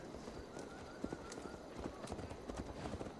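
Horse hooves clip-clopping at a steady riding pace in Assassin's Creed Valhalla, a continuous rhythmic gallop mid-distance under a low wash of ambient game sound and music.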